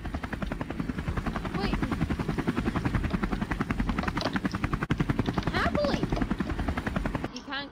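A loud helicopter in an escape room video game thumps with fast, steady rotor chop throughout, while excited voices talk and shout over it, and sharp gunfire-like bursts break in briefly.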